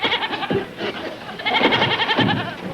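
A goat bleats repeatedly nearby, wavering cries running together over a few seconds, fairly loud, with faint voices mixed in.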